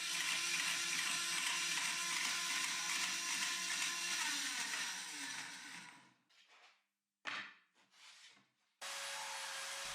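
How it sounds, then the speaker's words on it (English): A bandsaw cuts slowly through an aluminium insert plate: a loud, steady, rasping whine for about six seconds that then drops away, followed by a couple of brief, faint bursts and a renewed steady hum. "Then I can power up the saw and push the insert plate through the blade"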